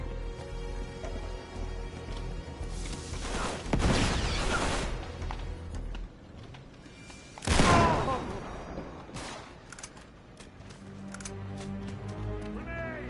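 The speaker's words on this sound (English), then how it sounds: "This guy's firing grenades into there." Grenades fired and exploding in the Uncharted action video game, with two loud bursts and crashing impacts rising over a continuous background of gunfire and game music, moderately loud.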